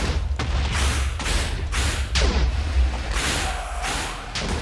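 Explosions in a Minecraft mob battle between the Wither and Gojicraft, a dense run of booming blasts and whooshes in close succession, loud throughout with no talk.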